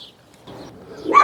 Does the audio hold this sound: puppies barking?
yes